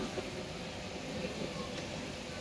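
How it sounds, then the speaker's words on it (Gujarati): A metro train arrives at a station in Malaysia. The sound is a faint, steady rumble with a broad wash of noise and no distinct events. "મેટ્રો ટ્રેન આવે છે,"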